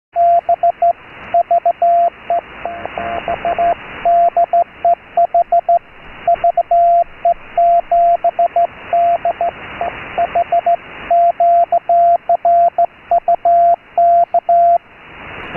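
Morse code CW on an amateur radio public service net at 3729 kHz: a loud, steady keyed tone heard through a radio receiver, sending continuous rapid dits and dahs in uneven bursts with short gaps, with no voices.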